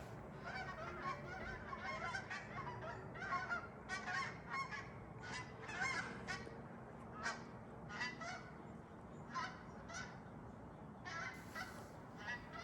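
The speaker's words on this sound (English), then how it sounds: "And the geese are here." Geese honking in Alaska at the start of waterfowl season, a flock calling in repeated overlapping honks, fairly close and steady over constant outdoor background noise.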